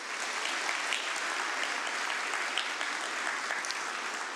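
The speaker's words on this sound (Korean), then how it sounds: "어린이들 위해서 한번 뜨거운 박수요." A church congregation at a Sunday service claps steadily and continuously for the children, a dense, even applause that holds at a moderate level throughout.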